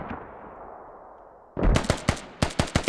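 Gunshots in a military shooter game during a championship match: after a quiet rumbling stretch, a rapid burst of sharp close shots, a pause, then another quick volley.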